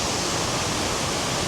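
Steady broadband rush of a forest waterfall and stream pouring continuously in a protected woodland after rain, close and full with no pauses.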